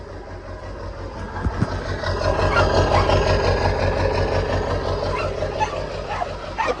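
A Ford 7.3 Powerstroke diesel engine idles steadily up close, a continuous broadband rumble with rhythmic low knocking, a few sharp clatters near the start and at the end.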